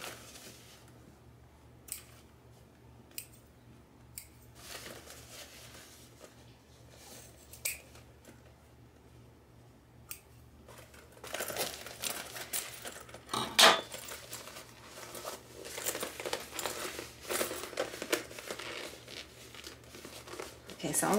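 Scissors snip quilt threads and fabric overhang up close, soft irregular cuts and rustling of cloth, growing busier and louder toward the end as someone talks quietly.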